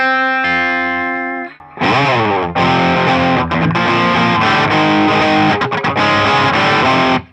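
An electric guitar plays a riff pattern, a short clean arpeggiated opening giving way after a brief gap to loud, heavily distorted power chords with choppy muted stops, close and alone.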